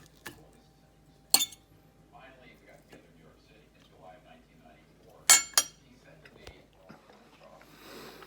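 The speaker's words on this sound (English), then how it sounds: "I'm getting my fork. I'll break a piece off here." Metal fork clinking against a plate while a piece of roasted cauliflower steak is broken off, two sharp bright clinks standing out from a quiet room with faint sniffs and soft handling noises.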